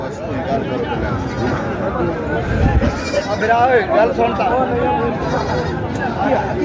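Goats bleat repeatedly amid a busy, crowded livestock market, with people chattering and calling out close by.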